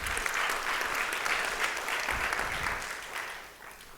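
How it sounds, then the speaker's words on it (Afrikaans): A church congregation at a Sunday morning service claps together in steady, sustained applause that stays moderately close, then fades slightly toward the end. "Kom ons gee dit uit 'n hande klap."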